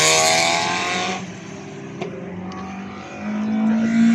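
Citroen 2CV driving on the race track at Cadwell during a track day, its engine loud and close at first, then easing off and fading slightly before building again toward the end.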